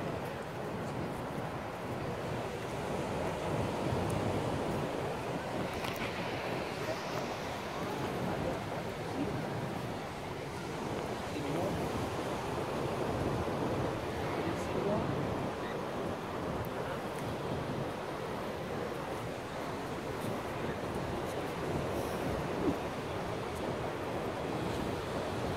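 Ocean waves at a beach make a soft, continuous surf wash mixed with light wind noise on the microphone, steady and fairly distant, with faint voices now and then.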